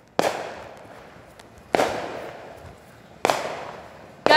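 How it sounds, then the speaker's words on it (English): Fireworks at an outdoor show in Chicago burst three times in steady succession, each a sharp loud crack followed by a fading crackle and rumble, with no talking. "Amazing firework view."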